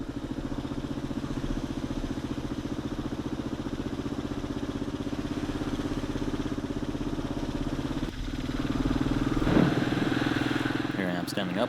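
A dirt bike ridden along woodland dirt roads, its engine droning steadily and fairly loud throughout, rising slightly in pitch near the end.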